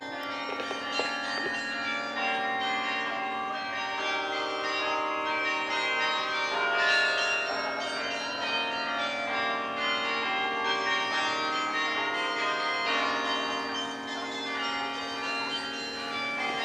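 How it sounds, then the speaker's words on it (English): Bok Tower's bells ring out a slow melody, clear sustained tones following one another steadily, heard from a moderate distance. "we've been hearing the bells coming from the tower as we've got closer"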